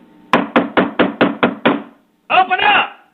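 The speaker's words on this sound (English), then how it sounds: "a knock on the door, 2:30 in the morning, beating on the door" Seven sharp, evenly spaced knocks pound on a door, loud and close, followed after a brief pause by a shouted voice.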